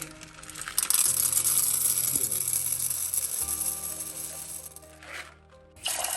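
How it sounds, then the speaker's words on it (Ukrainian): Dried black beans are poured into a cooking pot, making a rattling, clattering cascade of hard little grains that rises sharply at the start and tapers off with a quieter trickle. "насипаємо візьмемо півбанки квасолі чорної"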